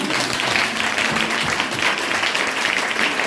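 A church congregation claps together in steady, dense applause during a worship service, loud and continuous throughout with no voices on top.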